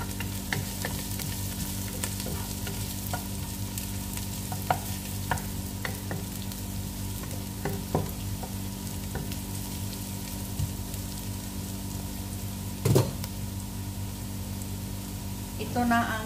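Onion browning in cooking oil in a pan, a steady low sizzle and fry running throughout with scattered small pops and a few louder clinks of a utensil, close and even.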